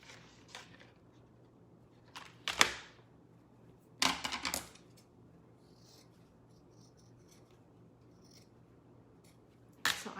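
Scissors snip through layered silk ribbon in a few separate bursts of crisp cutting, close and fairly quiet, with pauses of near silence between them.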